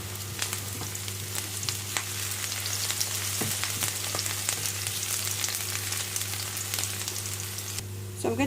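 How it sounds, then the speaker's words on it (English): Onions fry in olive oil in a pan, a steady, dense sizzle with crackling pops throughout, close and fairly loud over a constant low hum, with no talking. "I'm going to fry the onions until they soften"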